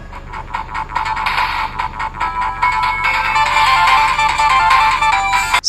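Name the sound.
menu music from the R36S retro handheld console's game selection screen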